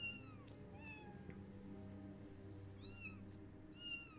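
Cats meow in the Final Fantasy XIV video game, as several kitties let out short, high mewing calls in scattered bursts over a steady low game music background.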